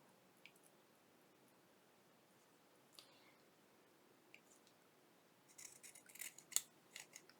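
Scissors snip through a piece of journal craft material in a quiet room: a few soft, faint clicks early on, then a denser burst of close, crisp cutting near the end.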